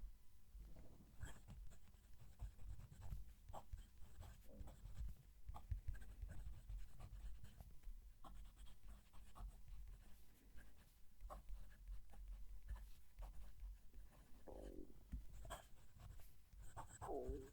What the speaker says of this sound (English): Then I'll move the mic down to the page so you can hear the pen write.